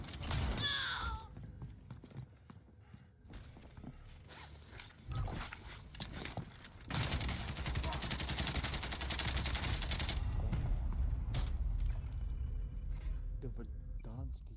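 Gunfire in the battle royale game Warzone, with bursts of automatic fire and loud shots running almost continuously under excited voices shouting over the action.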